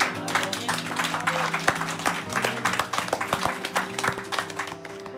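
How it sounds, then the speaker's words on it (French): Dense, continuous audience applause with many overlapping hand claps, steady and fairly loud throughout, fading slightly toward the end, at a restaurant in a Cauchemar en cuisine episode. "tu te fais applaudir, c'est génial"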